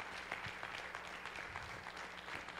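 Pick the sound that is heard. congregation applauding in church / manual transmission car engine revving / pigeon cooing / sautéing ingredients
congregation applauding in church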